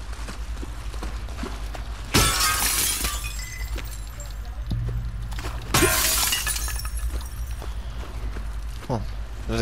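Window glass shatters twice in The Last of Us Part II video game, two loud sudden crashes with tinkling debris a few seconds apart, over a low ambient game background.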